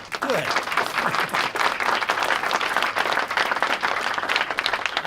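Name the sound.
audience applause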